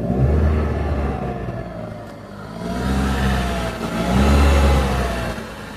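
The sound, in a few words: 2007 Dodge Avenger 2.4 litre 4-cylinder car accelerating from start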